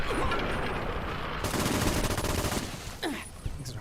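Flare guns firing in Fallout: New Vegas: a dense, loud burst of rapid shots and fusillade noise up close for most of the moment, tapering into a few scattered sharper reports near the end.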